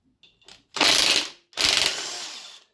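An impact gun takes out 5 mm hex bolts on an Audi A6 1.8T engine, starting with a couple of short taps and then giving two loud hammering bursts of under a second each, close up.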